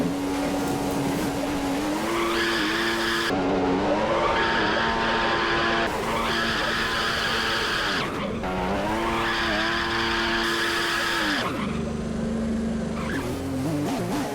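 Formula 1 cars in a racing video game crashing and spinning out, with tires squealing in long wavering screeches over high-revving engine whine; several separate spins follow one another, loud and close, with abrupt cuts between them.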